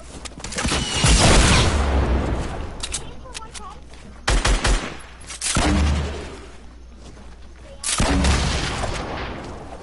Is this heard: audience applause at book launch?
no